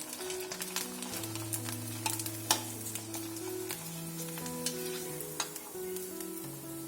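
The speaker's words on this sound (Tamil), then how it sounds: "இப்போ முறுக்கு வத்தல் பொரிச்சு காட்டுறேன்." Murukku vathal, rice crisps made from ration rice, sizzle in hot oil in a steady crackling fry, with a scattering of sharp pops and light stirring scrapes throughout.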